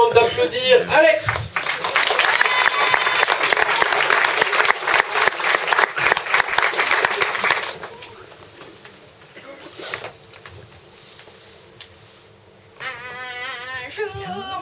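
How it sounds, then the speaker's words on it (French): Loud, dense applause from a show audience fills the first half, then fades into scattered clapping and crowd noise, with voices returning near the end. "je vous demande d'applaudir Alex."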